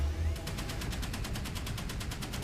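A naval gun on a Chinese Type 058 Zumwalt-style warship in Modern Warships fires a fast, evenly spaced automatic stream of about twenty sharp shots, loud and steady over a low engine-like rumble.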